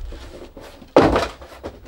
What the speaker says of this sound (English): let's move this box out of the way